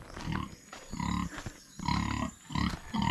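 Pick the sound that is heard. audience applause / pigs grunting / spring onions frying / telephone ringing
pigs grunting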